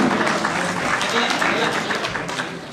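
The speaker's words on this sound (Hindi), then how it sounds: "एक बार जोरदार तालियों से स्वागत हो" An audience at a homeopathy award ceremony applauds to welcome a speaker, a dense, loud wash of clapping that carries on without a break, with a voice over a loudspeaker talking over it.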